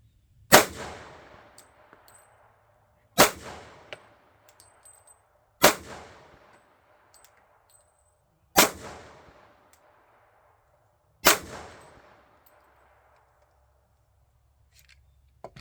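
Five evenly spaced pistol shots from a Glock 27 and a SIG firing 165-grain Blazer ammunition, each a sharp loud crack with a short ringing tail, roughly two and a half seconds apart, no talking.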